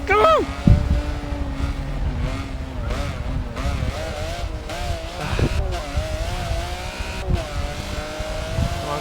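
In a racing video game, a Ferrari and rival race cars including a Porsche and a Maserati roar and rev, engine pitch climbing and falling through gear changes as cars pass, with a voice cheering over the engines.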